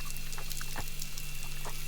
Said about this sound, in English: this is my dive computer again